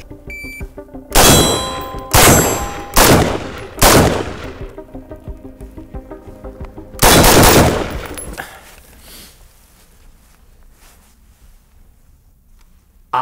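An L85A1 military rifle fires at a range. Four loud single shots come at roughly one-second intervals, then a longer, louder shot after a pause, each ringing out with a metallic echo before the sound fades.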